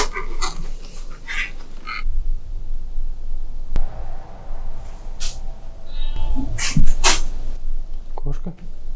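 A person imitates a cat's meow with voiced, whiny calls mixed among chatter and laughter, close and fairly loud.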